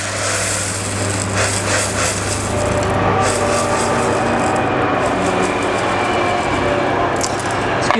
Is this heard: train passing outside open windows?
yes